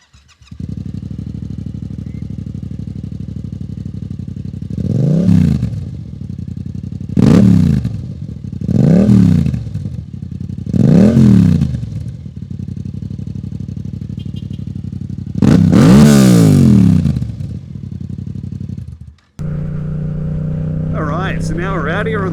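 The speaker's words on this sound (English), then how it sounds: "let's hear that exhaust sound" A Yamaha MT-07 with its CP2 twin-cylinder engine idles with a steady, throbbing exhaust note, punctuated by four sharp throttle blips and a longer rev, loud and close, before the sound cuts and another engine tone follows.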